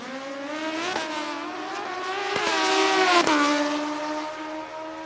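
A drag racing motorcycle on a 460-class qualifying pass at a Midwest sportsman event, its engine note climbing through several sharp gear changes as it screams down the strip, loud and steady, with no voices.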